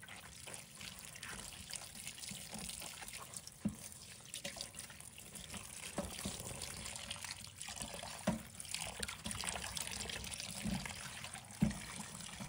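Mustard greens being washed by hand in water, soft continuous sloshing and trickling with occasional small splashes and drips, quiet and close, no voices.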